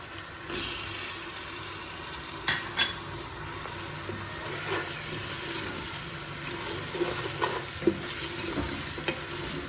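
Tomatoes go into a pot of turnip chicken (shalgam gosht) over low heat, with a continuous soft sizzle and occasional light clinks and scrapes of a spoon against the pan.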